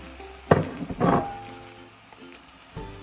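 Ground beef hits a hot pan seasoned with allspice and salt, giving two loud bursts of sizzling and frying that settle into a steady, quieter crackle, with no talking.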